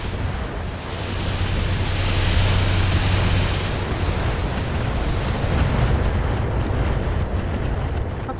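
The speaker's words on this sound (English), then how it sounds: "That's a lot of missiles, whoever's doing that." Missile explosions in a video game, a continuous rumbling roar of overlapping blasts, loud and sustained with no distinct pauses and no talking.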